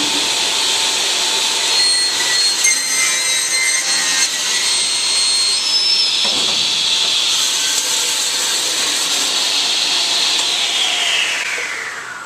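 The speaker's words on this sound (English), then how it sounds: "So you can see we've just trimmed one end nice and clean and flat again on our panel saw." A panel saw cuts through a wooden panel for a splay-legged table build, giving a loud, continuous whining and rasping hiss that holds steady for the whole stretch before tapering off at the end.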